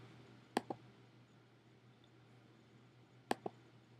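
Two crisp computer mouse clicks, each a quick double tick, spaced about three seconds apart over a quiet room hum.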